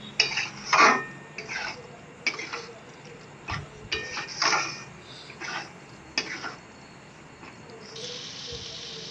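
Mutton liver curry being sautéed in a pan, with intermittent clinks and scrapes of a spoon against the pan over a low sizzle, close up.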